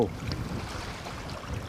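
Wind blowing across a fishing boat at sea in the Bristol Channel in winter, a steady rough low rumble of wind buffeting the microphone with faint wave wash, close and continuous, no talking.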